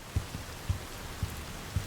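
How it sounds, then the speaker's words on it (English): Steady, soft rain hiss from the video game Cyberpunk 2077, a constant broadband wash with a regular pattern of low, dull thumps about twice per second beneath it, and no talking. "Ooh, it's raining too."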